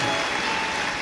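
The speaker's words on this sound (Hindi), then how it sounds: "एक बार जोरदार ताली बजाकर इनके लिए साधुवाद है।" Large audience at a Shiv Mahapuran katha clapping together loudly, a dense, even burst of applause filling the hall without a break.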